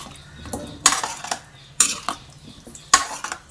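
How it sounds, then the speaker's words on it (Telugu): A spoon stirs Indian gooseberry pickle as it fries in a pan over a low flame, giving three sharp metallic scrapes and clinks at a slow, uneven rhythm over a faint background hiss. "ఇట్లా కదుపుతూ వేయించుకుంటూనే ఉండాలండి, చిన్న మంట మీదనే."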